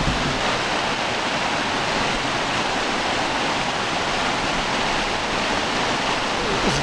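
Water tumbles over rocks in a forest stream, churning into air bubbles with a steady, close, full-bodied rush that holds constant without a break.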